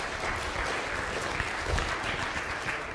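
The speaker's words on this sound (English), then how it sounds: "Give him a round of applause as he goes back to his chair." A lecture audience at a computer science talk gives a steady round of applause that fills the room evenly throughout.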